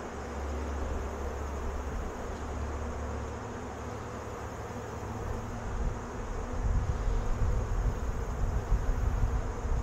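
Honey bees swarm around an open hive, a dense continuous buzzing hum close by that swells louder in the second half, with no voices.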